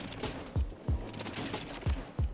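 Evolver gun firing in a Warzone firing range, four spaced deep thuds of shots at a slowish even rhythm, moderately loud with no talk.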